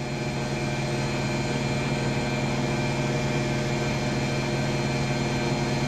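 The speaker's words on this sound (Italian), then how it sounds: "questa è la centrifuga a 1400 giri al minuto della francesina con la vasca nuova." An Electrolux EWF 146410 W washing machine with a new drum and a brushed motor spins at 1400 rpm, producing a steady, loud, continuous motor hum and whine with a constant tone and no pauses.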